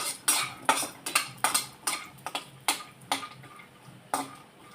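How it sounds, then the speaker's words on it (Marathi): Peanuts dry-roasting in a pan until golden, stirred so they rattle and clink against the metal in about a dozen sharp, irregular bursts. Close up, with no talking. "चला तर मी आता इथे शेंगदाणे पण भाजून घेते अगदी गोल्डन रंग येईपर्यंत"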